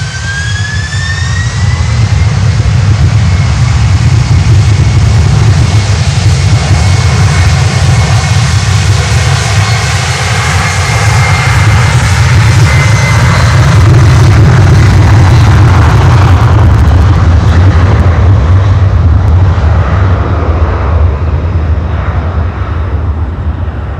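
A jet airliner takes off from runway 9 at Miami Airport, its engines roaring loud and steady throughout, with the pitch gradually shifting as it accelerates.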